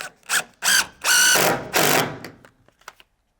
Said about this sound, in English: So we're gonna screw with some 2-inch screws